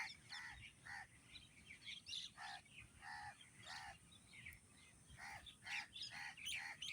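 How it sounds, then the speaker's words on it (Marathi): Repeated short bird chirps in a steady, irregular rhythm, fairly faint against a quiet outdoor background. "पक्षियों की आवाज़ सुन सकते हो"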